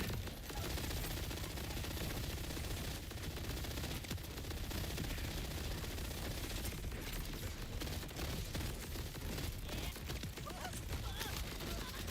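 Continuous heavy automatic gunfire in Borderlands 4 during a boss fight forms a dense, loud, unbroken wall of shots and blasts that lasts throughout the whole stretch.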